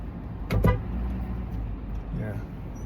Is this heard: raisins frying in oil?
no